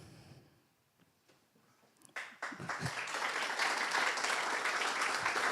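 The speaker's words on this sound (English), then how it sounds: "Applause, applause, applause." After a quiet start with a few scattered claps, a crowd breaks into sustained applause that swells and holds steady, filling the room.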